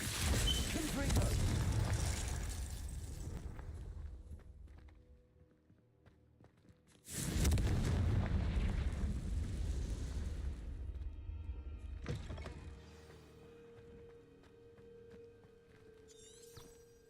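A Confringo spell blast in a video game bursts out as a sudden loud boom with a rumbling tail that fades over several seconds.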